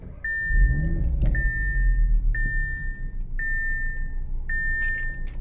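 A car engine cranks briefly and catches, then settles into a low idle as a dashboard chime beeps five times at an even pace.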